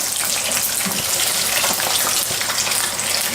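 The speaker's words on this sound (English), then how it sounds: "we've been frying them" Chicken wings for Buffalo wings deep frying in hot oil, a steady dense crackle and bubble holding at one even, loud level throughout with no voices.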